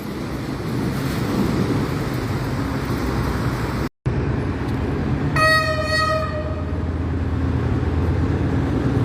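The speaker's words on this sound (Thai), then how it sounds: "กับขบวนรถธรรมดาขบวนที่277นะครับ ขณะนี้วิ่งผ่านจุดตัดทางรถไฟถนน ล่มเก้าเป็นที่เรียบร้อยแล้วนะคร" Ordinary passenger train no. 277, hauled by an MTU-engined locomotive, rumbles steadily past the Romklao Road level crossing at close range, with a sharp break midway and a bright multi-tone horn blast sounding partway through.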